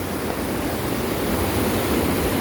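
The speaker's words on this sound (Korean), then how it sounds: "산에서 내려오는 계곡물이 시원하니 잘 형성되어 있습니다" Mountain valley stream water near small waterfalls on the road from Seolcheon-myeon to Gucheon-dong in Muju rushes in a steady, dense, close-up wash with no pauses.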